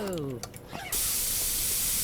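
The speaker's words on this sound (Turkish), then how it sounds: "Spreyleyelim abi ortalığı." An air freshener can sprays in Internet Cafe Simulator 2 with a sudden, loud, continuous hiss that lasts over a second. It follows a brief stretch of game music and chatter.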